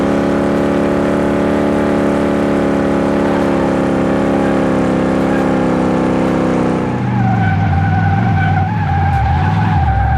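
A car in the racing-style driving of the video game Car Mechanic Simulator 2018 skids under braking: a loud, steady engine drone gives way to a sustained tyre screech over several seconds.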